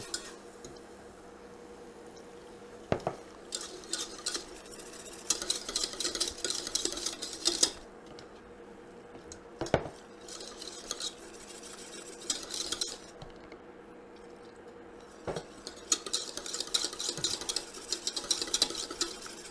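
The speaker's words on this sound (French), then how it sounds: "On met du liquide, on remue, dès qu'il est bien mélangé, on en rajoute." Whisk or spoon stirring milk into a roux for béchamel sauce in a pan, a rapid scraping and clinking in repeated bursts with brief pauses and occasional louder knocks against the pan.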